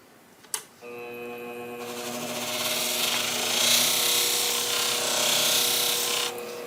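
Shears are drawn steadily across a sharpening stone in a continuous bright rasping grind after a sharp click, building louder and holding close before stopping abruptly.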